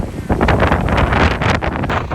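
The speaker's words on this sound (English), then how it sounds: "It's a little windy outside" Strong wind buffets the microphone outdoors near the seafront in Alexandria, Egypt, a loud continuous rumbling roar with gusty surges throughout.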